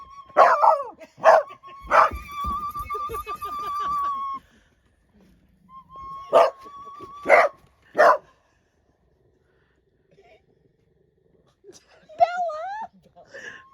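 Dogs bark in sharp bursts and let out low growls at home, loud and close, with gaps of near silence between, while people talk nearby.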